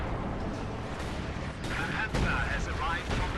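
Artillery and gunfire in Company of Heroes 2, a World War II strategy game, with dense booming and rumbling shots blending into constant battle noise, and several sharper blasts standing out partway through.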